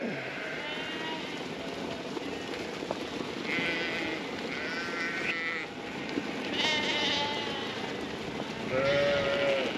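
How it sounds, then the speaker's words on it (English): Several sheep bleat repeatedly, some near and some farther off, over a busy farmyard background with shuffling movement. "Just moving the sheep that we got in this morning back out"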